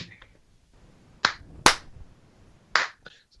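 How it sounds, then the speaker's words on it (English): Three sharp, widely spaced hand claps in a deliberate slow rhythm, close and crisp against a quiet room. "I want to give a slow clap to Miss Candace Payne."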